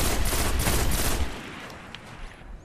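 Gunfire in Destiny during the Winter's Run nightfall, with dense rapid shots for about a second and a half that cut off into fading echoes and faint scattered sounds.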